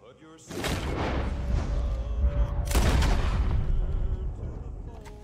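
Video game shotgun fire from a man standing in a road, heavy booming blasts with long rumbling tails, one near the start and a louder one midway, each decaying slowly.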